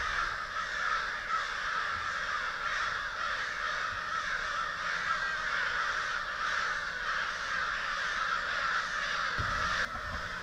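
Crows cawing loudly and excitedly in Arkansas timber, harsh repeated calls overlapping in a continuous racket that runs nearly the whole time, fairly close.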